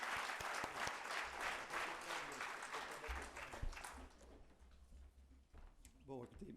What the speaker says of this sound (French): je propose qu'on vous applaudisse